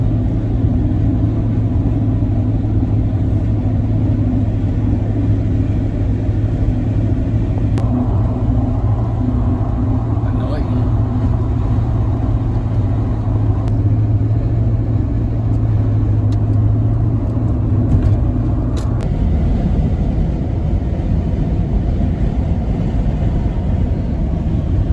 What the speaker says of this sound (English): Taking the 5-litre VP Commodore S ute on the journey.